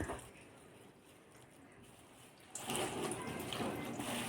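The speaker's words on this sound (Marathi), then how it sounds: "ह्या पोह्यांवर असं पाणी टाकून घ्यायचं आहे म्हणजेच आपल्याला हे पोहे धुवून घ्यायचे आहेत" Water poured over poha (flattened rice) held in a sieve to wash it in a home kitchen; after a quiet start, a steady, close splashing stream begins and continues to the end.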